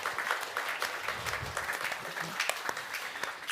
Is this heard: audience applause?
yes